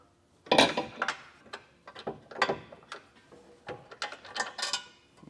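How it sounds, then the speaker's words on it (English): Socket wrench ratchet breaking loose and removing bolts during a trailer hitch install on a 2024 Subaru Legacy, with close, crisp bursts of ratcheting clicks in repeated short strokes, no talking. "just go back through with the socket, break them loose, and get them removed"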